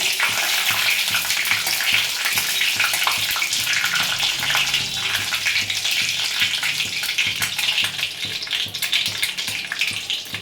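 Dry red chilli and five-spice seeds sizzle in mustard oil in a wok, a loud steady crackling hiss throughout without speech.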